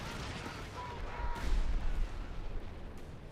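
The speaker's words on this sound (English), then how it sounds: "rapid fire artillery barrage" A rapid-fire artillery barrage in Company of Heroes 3 rumbles as a low, rolling run of distant blasts that swells and fades over a few seconds within the game's battle sound.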